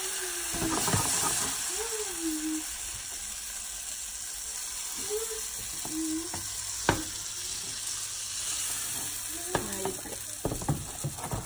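Crepe batter frying in an oiled pan gives a steady close sizzle and hiss, with a few small clicks and some faint scattered voice fragments over it.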